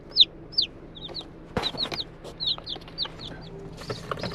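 Baby chicks make a series of high, thin peeps, close and repeated in quick bursts, with a few bumps and rustles of handling and movement in the background on a farm.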